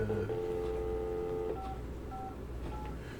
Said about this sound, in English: I'm calling someone here that called me yesterday, and I'm going to return his call.